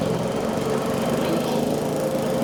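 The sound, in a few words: lawn mower engine running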